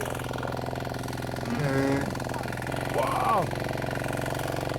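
A walk-behind tiller engine ploughs a farm field with a steady, throbbing mechanical drone that runs unbroken from start to finish. A voice briefly exclaims over it.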